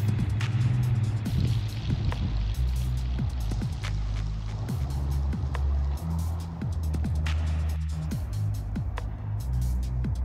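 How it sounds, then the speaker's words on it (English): A BMW convertible's roof retracts on a key fob command, a steady low motor whirr with a few tonal layers and scattered light clicks and knocks, moderately quiet and without speech. "There goes the roof."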